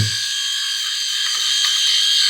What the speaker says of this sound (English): we are shaving. Oh, it's already shaving really nice.